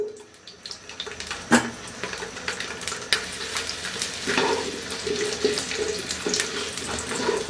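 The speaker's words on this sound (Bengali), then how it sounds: "আমি হাই হিটেই ভাজতেছি যাতে খুব জলদি হয়ে যায়" Small peeled new potatoes fry in two tablespoons of hot ghee over high heat, a continuous crackling sizzle with occasional sharper pops and clinks of stirring.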